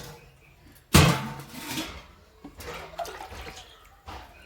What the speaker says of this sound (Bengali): জল দিয়ে দিলাম ভাতটা বসিয়ে দিয়ে